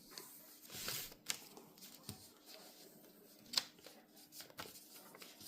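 Paper for a junk journal is folded up to a line and creased firmly, producing faint close rustles and a few sharp crinkling swipes in a quiet room.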